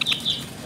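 A Java sparrow gives a few quick, high chirps in brief succession, clear and close, with a quiet background and no talking.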